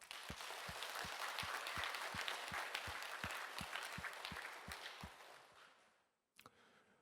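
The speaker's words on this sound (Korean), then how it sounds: "저희가 한번 격려의 박수 부탁합니다." Church congregation at a Korean Sunday service clapping in encouragement, a soft, fairly distant wash of applause with a few prominent rhythmic claps, fading out after about six seconds, followed by a brief knock.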